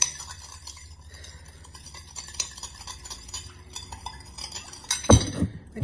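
A spoon stirs icing sugar and lemon juice in a bowl for a lemon drizzle cake, with soft scraping and light clinks building to a sharper clatter near the end, no talking.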